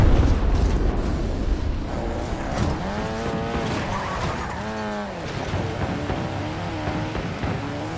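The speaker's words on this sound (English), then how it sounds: "Authorizing napalm strike in my AO" A napalm strike in a military shooter video game opens with a heavy low boom that rolls into a long rumbling roar, with droning engine-like tones over it.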